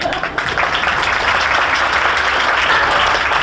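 Church congregation clapping during a sermon, a dense, steady wash of applause from many hands that fills the whole stretch at high level.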